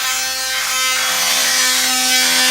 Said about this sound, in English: I just cut this out with my multi-tool